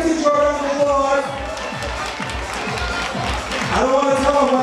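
Ballroom crowd at an awards ball claps and cheers for a performer, steady rhythmic applause and shouts filling the room throughout, with a loud voice on a microphone running over it.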